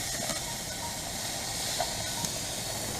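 London broil steak sizzling over heat on an RV grill, a steady hissing sizzle with faint crackles, continuous and fairly quiet, no talking.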